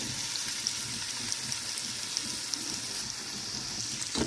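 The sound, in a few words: onions frying in oil in a pan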